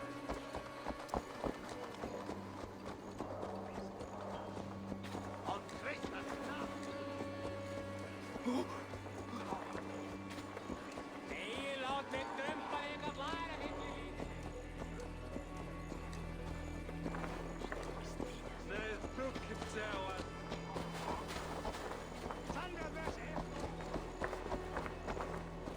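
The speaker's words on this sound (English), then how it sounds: "Stop that horse!" A horse's hooves clip-clop at a running pace across a game world in Assassin's Creed Valhalla, steady and mid-distance. They sit under a constant bed of music and ambience, and a low rumble joins about halfway through.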